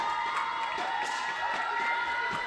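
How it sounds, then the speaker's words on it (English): A finals hall crowd at a junior men's air pistol championship in Osijek, Croatia cheers and whoops steadily, a sustained wash of voices that stays loud throughout with occasional sharper shouts rising above it. "Some great noise from the crowd as well"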